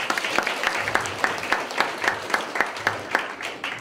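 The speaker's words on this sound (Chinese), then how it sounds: "来，我们请掌声欢迎我们副局长" A crowd at a student character-education award ceremony in Kaohsiung applauds to welcome a deputy director, a steady wash of clapping with sharper individual claps standing out throughout.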